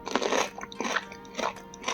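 Close, crisp crunches from biting into a very lightly pickled cucumber, several sharp crackling bites and chews in quick succession with no speech.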